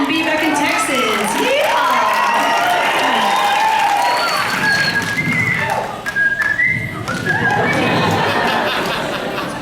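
Live audience at a fan event in Texas whistling loudly: shrill wavering whistles rising and falling over crowd noise, with speech and cheering mixed in.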